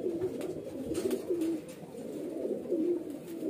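A highflyer breeder pigeon coos softly in repeated low, rolling phrases, fairly faint and steady against a quiet background, with no talk.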